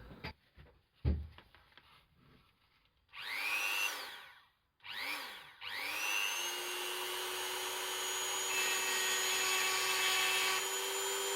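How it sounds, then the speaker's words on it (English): A handheld Dremel rotary tool grinds away material on an Elden Ring Royal Greatsword prop blade, starting in short high-pitched whining bursts, then running in a long, steady, close whine with a dropping pitch. "will use the Dremel tool to carve out everything that isn't red"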